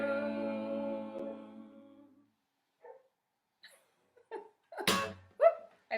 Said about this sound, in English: we have a border collie that barks whenever we sing